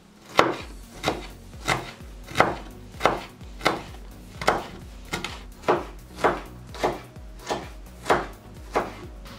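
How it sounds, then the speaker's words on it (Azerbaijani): A knife chops green pepper into cubes on a board, a steady run of about fourteen crisp, evenly spaced thuds, close up and unaccompanied by talk. "Sonra da bu cür yenə doğrayırıq qub-qub."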